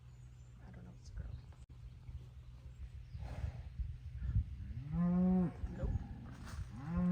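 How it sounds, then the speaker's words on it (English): A large cow lets out a couple of loud, drawn-out moos close by on a farm tour on Anglesey, North Wales, with people chatting quietly before the calls. "It's a big cow."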